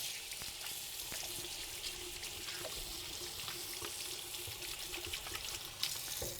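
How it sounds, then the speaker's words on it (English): Tap water runs steadily into a sink while hands are rinsed under it, a continuous close splashing hiss with no talking. "I'm going to go wash my hands really fast."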